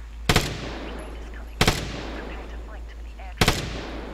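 Three separate, loud light machine gun shots ring out at steady intervals in the online shooter Vigor, each a sharp crack with a short decaying tail over a low steady hum.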